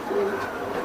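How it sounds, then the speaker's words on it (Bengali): A grizzle racing pigeon gives one brief, low, throaty coo close by, with no speech over it. "এটা গ্রিবাস কবুতর।"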